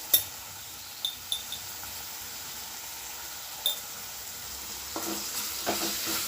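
Salt and coriander powder stirred into tomato rice in a hot pan, a steady sizzle under a few sharp spoon clinks against the metal, close and moderately quiet with no talk.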